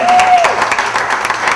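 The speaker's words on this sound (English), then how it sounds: "Can we have another round of applause for" Audience applause at a book release ceremony, loud dense clapping filling the room from the start and holding steady for its short length, with a brief whistle-like tone early on.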